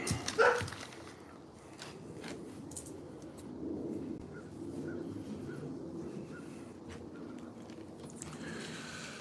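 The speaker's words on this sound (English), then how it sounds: "we gotta deal with that fucking dog" A dog barks a few times early on, close and sharp, then fades into quiet room noise with faint scattered sounds over several seconds.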